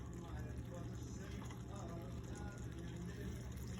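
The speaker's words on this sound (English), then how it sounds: "And half a cup more of our pasta water." Pasta water pours and trickles into a pan, a faint, steady liquid splash heard at close range in a home kitchen.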